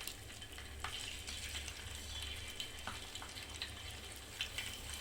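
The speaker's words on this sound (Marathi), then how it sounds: "झालेला आहे, तर मी आता गॅस स्लो करते आणि एक एक मच्छी टाकून घेते मी।" Mandeli fish sizzle steadily in hot oil on a tawa over a low gas flame, with soft clicks and clinks of pieces being added one by one.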